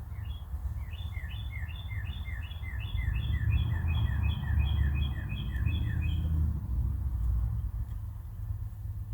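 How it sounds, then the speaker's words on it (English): A bird sings a rapid, repeating series of high chirps for several seconds, then stops, with a low rumble of distant traffic underneath. "I'm going to listen to the birds for a minute or two"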